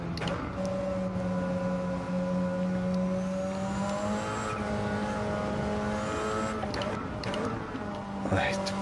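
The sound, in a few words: race car driving in video game Gran Turismo 7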